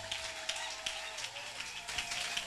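Church congregation clapping and applauding Jesus during a French-language worship service, a steady, fairly even applause across the whole moment with a faint voice underneath.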